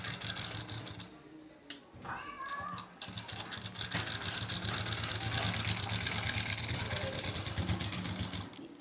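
A sewing machine stitches the neckline of a suit with a close, rapid whirr. The stitching breaks off briefly near the start, then resumes and runs steadily to the end.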